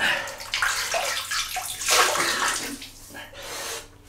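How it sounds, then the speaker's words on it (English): Close, shallow splashing and sloshing of water as hands wet the face before a shave with a Gillette Slim Twist razor, in uneven scoops with a faint tap-like wash behind. "So I'm just going to wet the face."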